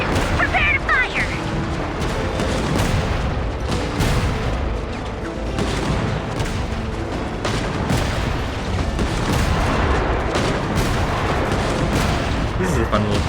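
Cannon fire in the Genshin Impact video game, dense booming blasts and crashing impacts layered with loud game music and effects, continuous and heavy throughout.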